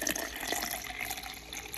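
Water being poured into a mug of beauty milk collagen drink powder, a thin steady trickling stream close by, soft and continuous for a couple of seconds.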